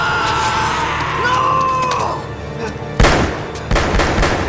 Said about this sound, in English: Just keep shooting, wasting your ammo for when you really need it.